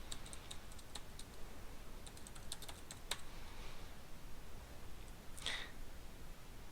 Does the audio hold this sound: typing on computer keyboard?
yes